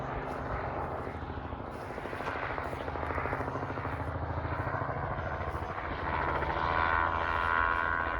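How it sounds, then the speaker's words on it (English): A helicopter's rotor thumps and engine roar grow steadily, a continuous pulsing chop that gets louder toward the end as it draws closer. "Okay, the helicopter's coming, you can hear it."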